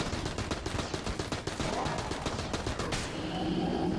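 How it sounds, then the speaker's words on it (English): An AK fires in rapid automatic bursts in the game Enter the Gungeon, a dense rattling stream of shots for about three seconds, then the gunfire stops and a steady game background continues. "I will kill him with the AK."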